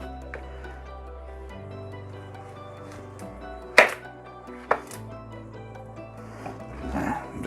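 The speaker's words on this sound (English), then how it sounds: "we can cut one more time into eighths" A knife cuts a pumpkin into eighths on a cutting surface, producing two sharp, close chopping thuds a second apart over quiet background hum.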